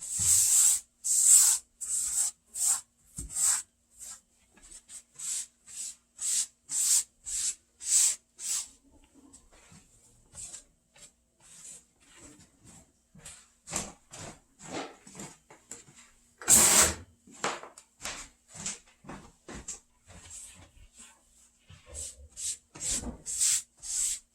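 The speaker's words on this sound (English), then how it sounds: "Now I'm going to clean up my mess because powdered sugar is messy." Spilled powdered sugar is wiped up on a kitchen surface, a long run of close, rhythmic rubbing and scrubbing strokes, some quick and short, others drawn out, with brief pauses between them.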